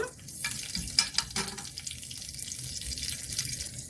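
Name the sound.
ingredients frying in pan for coriander chutney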